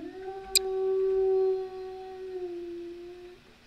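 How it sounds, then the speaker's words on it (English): A long, steady dog-like howl from a creature in a horror video game, holding one sustained tone for about three seconds with a brief sharp click early on, fairly close and clear with no talking. "Sounds like a dog."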